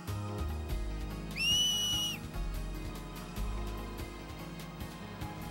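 A finger whistle cheer from the game Final Fantasy X, a single bright rising-then-level whistle lasting under a second, heard over steady ambient game music with no talk.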